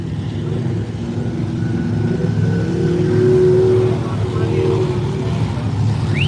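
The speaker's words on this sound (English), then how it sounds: "There we go, the blown loony dragster." A blown dragster engine revs and drones at a distance across an Arizona sand drag strip, a rising and falling mechanical roar that swells midway, with crowd noise and nearby talking layered over it.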